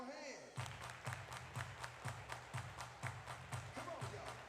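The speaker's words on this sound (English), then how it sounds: "clap your hands." A crowd at a high school robotics competition claps in a steady rhythmic beat, loud sharp claps repeating about twice per second, with chanting voices and music underneath.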